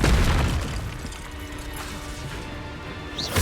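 A Confringo fire spell explodes in the video game Hogwarts Legacy, opening with a loud low boom and crash that settles into a rumbling, crackling tail over a few seconds, with no voices.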